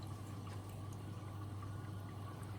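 Soft steady rush of water splashing inside a Fisher & Paykel WM1490F1 washing machine as it fills, a quiet continuous wash with a low steady hum beneath.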